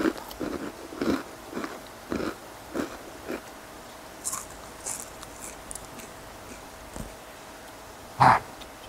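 Crispy fried chicken sticks are bitten and chewed in a series of short, sharp crunches, close and fairly loud, spaced irregularly, with one louder crunch near the end and no talking.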